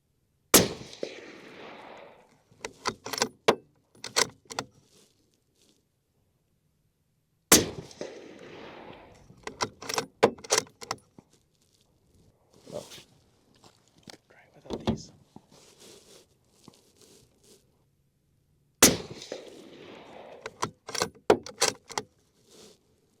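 Suppressed rifle shots through a Griffin Armament PSR 7 suppressor, three sharp reports spaced several seconds apart outdoors, each followed by clattering bolt and handling noises, with someone speaking between them.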